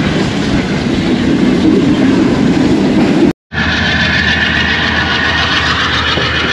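The Bahauddin Zakaria Express in Pakistan rolls into the Hyderabad junction yard, a loud constant rail roar with faint wheel clatter, briefly cut by a short gap of silence midway.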